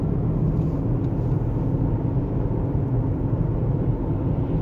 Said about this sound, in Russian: почему-то дорогу очень сильно слышу